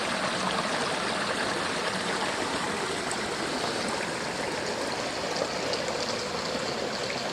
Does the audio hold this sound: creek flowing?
yes